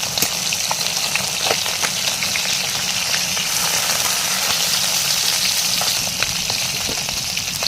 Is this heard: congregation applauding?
no